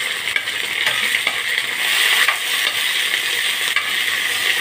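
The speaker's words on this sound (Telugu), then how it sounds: "ఆయిల్లో వేసినవన్నీ కొంచెం ఫ్రై అయ్యాక" Whole pulao spices, kasuri methi, curry leaves, grated ginger and garlic cloves frying in oil for a pumpkin curry, a loud, steady hissing sizzle close up, with a few faint clicks of a utensil.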